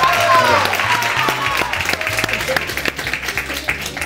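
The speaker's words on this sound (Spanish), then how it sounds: "vamos a darle un aplauso a David" A studio audience at a television variety show applauds and claps for a guest, steady clapping from a close crowd under background music that fades into scattered claps.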